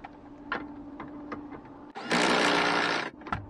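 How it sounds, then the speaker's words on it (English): Several sharp metallic taps set a tapered stud into a PT Cruiser Watts link, then an impact wrench rattles loudly for about a second while tightening the nut, followed by a final tap. "I'll tap this into the Watts link just to set the taper, and then that'll hold it while I impact the nut tight"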